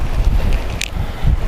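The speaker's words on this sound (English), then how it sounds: "it's definitely mad windy out here if you can't tell" Strong wind gusts buffet the microphone on a lake during a windy crappie fishing outing, producing loud, rumbling, uneven blasts with a brief higher rush partway through.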